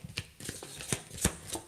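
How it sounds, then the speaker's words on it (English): A brand-new tarot deck being shuffled by hand, with several crisp riffling bursts at uneven intervals, the sharpest near the end, close and fairly quiet with no talking. "Let's shuffle out my new deck"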